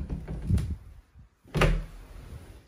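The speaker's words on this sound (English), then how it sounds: "Nice double door closet." Double closet doors in a bedroom of a modular home are opened, giving a clear wooden thump and rattle after some quieter handling noises, heard close by with no talking.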